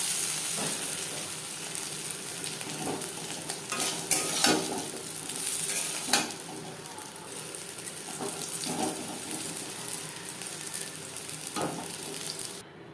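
Potato and paneer frying in a wok with a steady sizzle, broken by occasional scraping stirs and clinks of a spatula.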